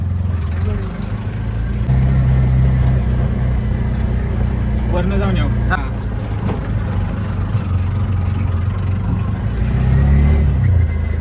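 The engine of a new auto rickshaw out on a test drive runs with a steady low rumble that rises now and then as it accelerates, with people talking close by over it.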